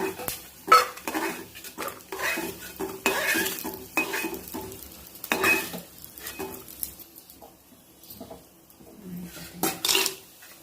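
Almond pieces frying in ghee in a pan, a low sizzle under repeated clinks and scrapes of a metal spoon against the vessel, sounding close with uneven pauses.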